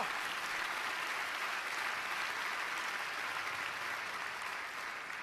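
Steady, dense applause from a gala audience fills the whole stretch, broad and even without breaks, fairly moderate in level.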